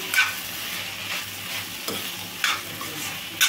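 A spoon stirs ridge gourd curry made with milk and raw lentils in a frying pan, scraping in several distinct strokes over a soft, steady sizzle, close and alone without talk.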